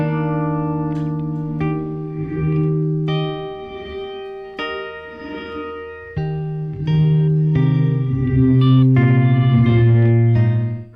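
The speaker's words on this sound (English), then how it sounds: "the first one here is the black hole reverb. This is kind of a reverse reverb." Electric guitar notes swelling in through a black hole reverse gated reverb pedal, each chord blooming backward into a washy, sustained shimmer before cutting off abruptly.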